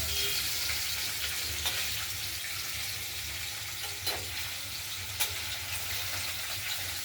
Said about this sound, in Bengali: আমি এগুলো হালকা ভেজে নেব। ভাজছি, ধীরে ধীরে ভাজা হবে।